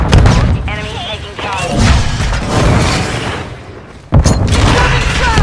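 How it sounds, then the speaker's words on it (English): A stun grenade detonating in Call of Duty Modern Warfare, a sharp loud bang near the end following a stretch of game voice callouts and rumbling combat noise. "Stun grenade out!"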